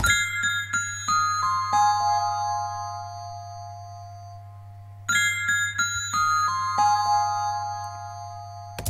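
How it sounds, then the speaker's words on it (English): A Rhodes electric piano from the Addictive Keys plugin plays two descending runs of bell-like notes over a sustained low tone, each note ringing out and decaying, with no voices. "I have a Rhodes that I played with Addictive Keys"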